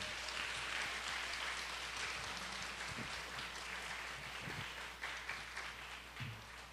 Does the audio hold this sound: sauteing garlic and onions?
no